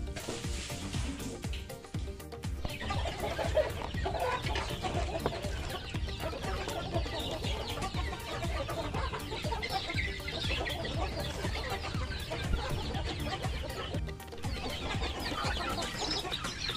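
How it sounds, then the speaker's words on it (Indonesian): Chickens waiting to be fed boiled corn cluck and squawk steadily and close by, a busy overlapping flock chatter that never pauses. "waktunya kita berikan pada ayam ya yang sedang menunggu"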